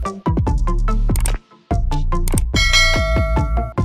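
A notification bell chime rings out as a quick run of bright, loud bell strikes. After a brief gap midway, it resumes in a denser, shimmering ring that sustains to the end, with no voices.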